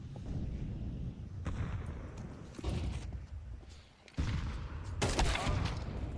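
Rapid AK-47 gunfire from a Counter-Strike team rush onto the B bomb site, dense overlapping shots with sharp louder bursts near the end, continuous and close.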